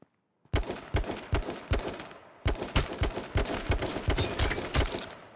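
Rapid bursts of automatic gunfire in an H1Z1 gunfight, a dozen or so sharp loud shots in quick uneven succession after a brief silence, with no talk.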